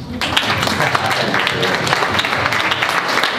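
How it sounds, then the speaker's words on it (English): A crowd applauding, a dense burst of many hands clapping loudly and continuously. "Round of applause for Lizzie."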